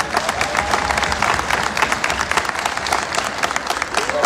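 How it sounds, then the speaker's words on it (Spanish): An audience at a community string orchestra concert in March 2024 applauds the conductor with dense, sustained clapping from many hands in a hall, loud and steady for the whole stretch. "Un aplauso al maestro Pablo."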